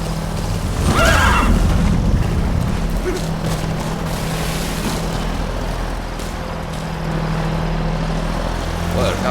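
A horse in Metal Gear Solid V whinnies once, loud and close, early on, then hooves and a low rumbling game backdrop carry on steadily.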